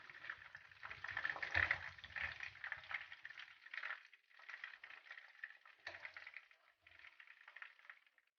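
Fish pakora pieces fry in hot oil, a close crackling sizzle that swells and fades in uneven bursts, with a few soft clinks from the pan.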